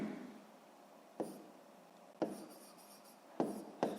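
A pen writes numbers for a sixth-grade maths exercise, a very quiet, soft scratching broken by a few sharp taps as strokes begin, with no voices.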